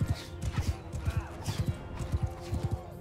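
Horse hooves gallop across the ground in the Mount & Blade II: Bannerlord game, a fast, steady run of thudding beats up close with rustling battle noise behind.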